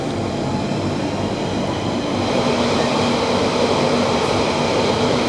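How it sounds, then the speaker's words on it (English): A London Underground tube train runs fast near Roding Valley, its carriage filled with a loud, steady roar and rumble of wheels on track, heard from inside without any talking. "I forget how bumpy tube trains get when it's going fast."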